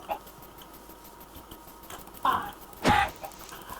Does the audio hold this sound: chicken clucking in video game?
yes